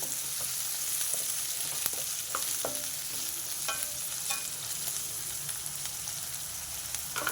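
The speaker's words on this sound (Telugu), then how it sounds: "ఆయిల్ వేడైపోయిందండి. ముందుగా కట్ చేసి పెట్టుకున్న ఉల్లిపాయలు, పచ్చిమిర్చి వేసేసా." Onions and green chillies frying in hot oil for a mutton gravy curry, a dense continuous sizzle with occasional spoon scrapes and pops, close and steady throughout, no talking.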